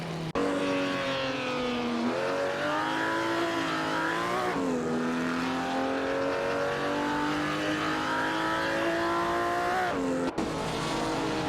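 AI-driven 1950s sports cars, including a Ferrari, race in a video game, engines loud and continuous with rising and falling revs as they accelerate and shift, a brief tire squeal near the end.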